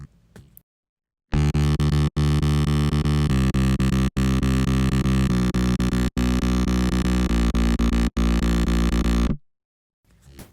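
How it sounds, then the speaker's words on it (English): A buzzy, distorted bass line on an RC-505 MKII looper, chopped by Step Slicer with Chorus for stereo, plays in choppy sliced steps with shifting notes and brief regular dropouts, running about eight seconds before cutting off. "By using Step Slicer to chop the bass line and using Chorus to get some stereo sounds"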